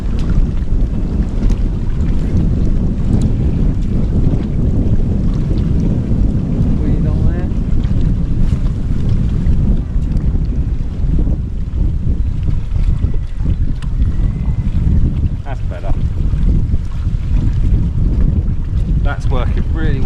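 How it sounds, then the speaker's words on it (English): Strong wind buffeting the microphone at sea from a bellyboat while fishing, a constant loud roaring rumble with water sloshing throughout. "Oh, that wind."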